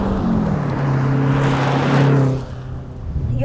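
A mid-engine 1983 Renault R5 Turbo 2 drives nearby, its engine droning steadily and rising in pitch before easing off, with a loud whooshing swell midway and no talk.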